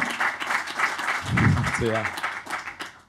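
Audience clapping at a JavaScript Israel meetup, moderate and fairly brief, overlapped by a voice speaking partway through.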